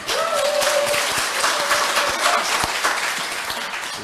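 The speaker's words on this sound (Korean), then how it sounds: "격려 박수를 부탁드리겠습니다" A congregation at a church worship service gives encouraging applause, a steady, fairly loud wash of clapping with a brief tone and scattered voices beneath it.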